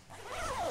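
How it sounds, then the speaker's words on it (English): A jacket zip is pulled up in one smooth, rising rasp lasting under a second, close and fairly quiet with no voices. "So I'm now going to zip up my jacket."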